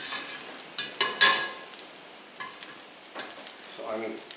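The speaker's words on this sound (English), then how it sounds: "you want the foam to subside in the pan before you start frying" Butternut squash pierogi sizzle and crackle in a hot pan of foaming butter, with scattered pops and a few scraping stirs, close up and without speech.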